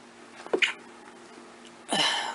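A single quiet indoor sneeze, a short sharp burst of breath after a couple of faint preparatory sniffs.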